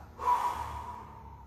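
Heavy, forceful breathing from a person doing an intense glute hypertrophy workout, one loud exhale-like breath rising quickly and then trailing off over about a second, close and fairly clear with no talking.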